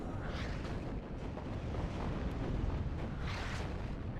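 Rocket artillery fire from Uragan launchers in the WARNO war game: a dense, continuous rumbling barrage of overlapping booms and explosions, loud and sustained throughout with no pauses.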